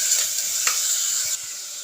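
Onions sautéing in a pan for chicken curry, a close, continuous bright sizzle with a few soft stirring knocks and scrapes, no speech.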